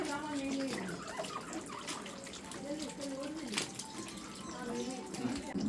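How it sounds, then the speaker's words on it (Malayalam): Pond water runs into a fish tank in a steady rushing, splashing stream, close by, while someone talks over it throughout. "കുളത്തിലെ വെള്ളം തന്നെ ഉണ്ടാ ഈ ടാങ്കിൽ നിറയ്ക്കണത്."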